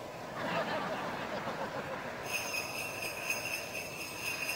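A train running on rails, a broad steady rumble with a rising metallic whine and squeal joining partway through, continuous and moderately loud throughout.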